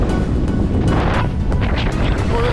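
Strong wind gusting across a sailboat at sea near Point-à-Pitre, a loud continuous roar with rushing buffeting and occasional brighter splashes of water, steady throughout with no talking.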